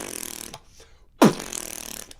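Beatboxer imitating a fart bass with the voice, a short buzzing low blurt that rises out of quieter breathy vocal sounds, close and alone.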